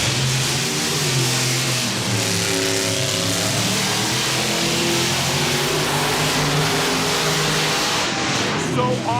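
The Grave Digger monster truck's engine roars and revs in surging waves at a Monster Jam arena show, loud and continuous beneath an excited commentator's voice.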